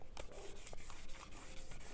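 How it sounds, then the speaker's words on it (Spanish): Hand sanding of varnish on a Seat 600 / Fiat 600 wheel rim with very fine 1200-grit sandpaper, a quick series of close, soft rhythmic rubbing strokes, about eight in two seconds, with no voices. "Esto sí que es con lija muy suave"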